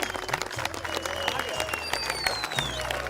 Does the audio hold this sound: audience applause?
yes